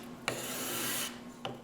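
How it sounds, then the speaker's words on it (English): A card scraper rasps paint off wooden boards in one close, steady scrape lasting under a second, followed by a brief second stroke. "use the card scraper to remove it"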